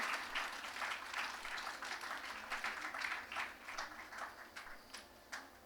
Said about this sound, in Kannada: ಅನನ್ಯ ಮತ್ತು ಆಕೆಯ ಕುಟುಂಬಕ್ಕೆ ಶುಭವಾಗಲಿ ಅಂತ ಚಪ್ಪಾಳೆಯ ಮೂಲಕ ಪ್ರೀತಿಯಿಂದ ಹಾರೈಸೋಣ.